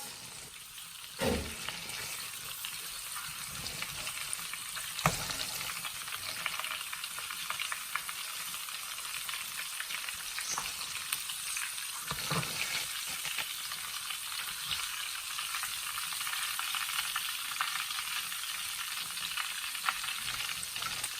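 Lamb pieces for a brown stew sizzle and fry steadily in a hot pot, with occasional scraping and stirring clatters as they are lifted out; no talking.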